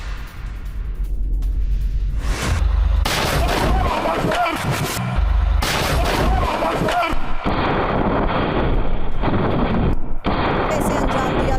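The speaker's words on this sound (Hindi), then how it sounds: "मोर्टार और आरपीजी से हमला कर रहे हमास लड़ाकों की ये तस्वीर देखिए।" Mortar and RPG attack on an Israeli Merkava tank by Hamas fighters in a guerrilla assault, heard as dense, continuous loud gunfire and booming blasts with repeated heavy bursts and no clear pauses.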